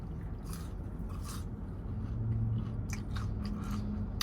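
Close, steady crunching and chewing of KFC french fries, soft irregular bites repeating over a low background hum with no talking.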